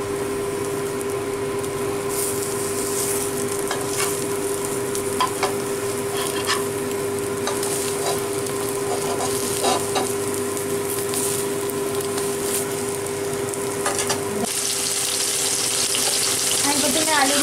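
Small pieces of potato frying lightly in a pan give a steady, close sizzle with soft stirring scrapes, continuous and even throughout.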